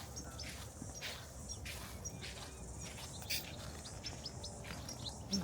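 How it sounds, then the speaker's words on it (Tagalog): Birds chirping in a planted garden, brief high calls scattered over a steady bed of insect-like buzzing, moderately distant with no talk. "Yan po mga ibon dyan."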